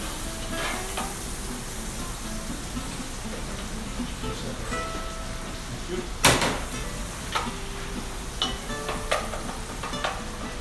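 Onions sauté in melted butter in a medium sauté pan, a steady close sizzle with scraping stirs and a sharp clatter of the utensil partway through, while faint voices talk in the background.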